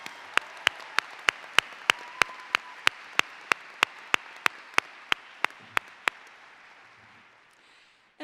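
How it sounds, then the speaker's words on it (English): Steady, evenly spaced claps at a December college commencement greet the national anthem and alma mater singers, sharp and close, about eighteen in a row before stopping. "Can we give them another round of applause?"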